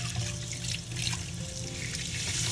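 Tap water runs steadily into a sink while vinegar-washed seafood is rinsed, a close, continuous splashing stream with faint clinks, no talk.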